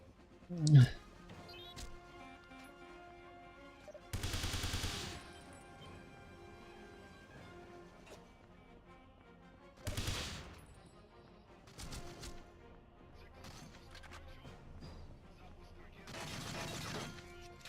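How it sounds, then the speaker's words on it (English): Several loud, separate shotgun blasts with a crashing burst quality in the video game 007: Everything or Nothing, spaced seconds apart over quiet game ambience while someone talks between them. "He took 2 shotgun blasts."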